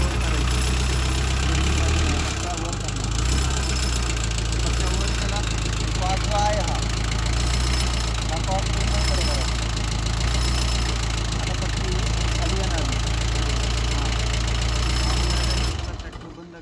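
A tractor fitted with a rotavator idles in a constant low, throbbing rumble that holds steady for the whole stretch before cutting off at the end, while someone talks over it.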